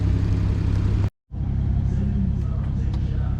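A car engine idles while warming up, a steady close rumble that drops out briefly for a moment before resuming at the same level.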